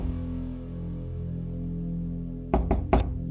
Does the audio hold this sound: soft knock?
yes